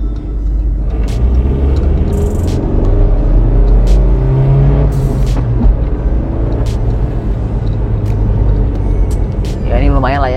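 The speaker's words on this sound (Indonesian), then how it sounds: "sekarang kita coba gimana ya akselerasi di mobil ini" A 2011 Suzuki APV accelerating in traffic gives a steady low engine rumble heard from inside the cabin, while someone talks over it almost the whole time.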